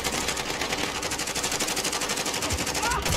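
Rapid automatic gunfire in the Call of Duty video game, a continuous loud rattling burst of evenly spaced shots filling about three seconds.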